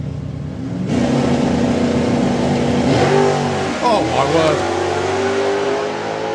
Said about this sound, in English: You can hear a V8.